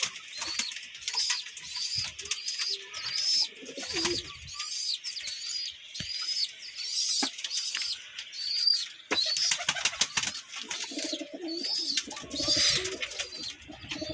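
Breeding pigeons and their young in a loft coo repeatedly in soft, rhythmic calls, with occasional wing flaps and rustling throughout.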